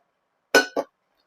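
A 304-grade stainless steel pressure cooker is handled, giving two quick bright metallic clinks close by, then silence.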